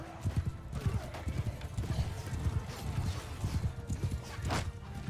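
Horses clip-clop steadily through a Bannerlord battle in the game's modded 1.1.2 version, with hooves thudding close and repeatedly, a brief whinny cutting through near the end.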